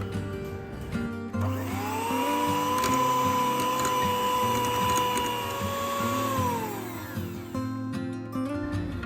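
Electric mixer whirring through butter cookie batter with vanilla essence added, a steady motor whine that rises in pitch, holds, then winds down, fairly close.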